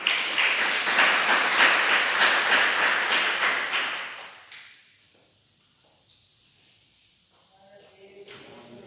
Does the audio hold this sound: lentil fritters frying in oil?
no